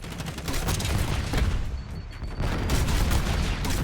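Explosion and gunfire from a C4 detonation in Call of Duty Black Ops 6 during a Hardpoint match, a dense, loud barrage of shots and blasts that runs continuously with a brief dip midway.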